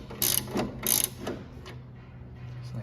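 A ratchet loosens a flag nut during a lower control arm install on an S197, clicking in two quick bursts followed by softer, fainter clicks against a low background hum.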